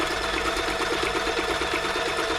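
A Toyota Model 2640 sewing machine running a stretch stitch gives a steady, rapid, loud mechanical whir with a fast repeating needle rhythm, continuous and alone, with no talking.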